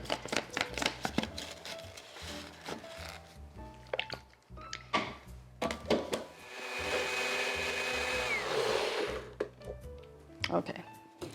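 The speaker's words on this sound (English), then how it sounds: "Okay, we're just gonna blend this up." A countertop blender whirs through lemon and low-sodium vegetable broth for a plant-based sauce, one sustained motor run of a few seconds between knocks and handling clatter, with a voice speaking before and after.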